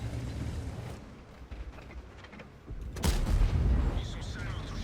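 Blind artillery fire in World of Tanks, a heavy low boom that hits about three seconds in over rumbling game noise. A player talks earlier in the clip.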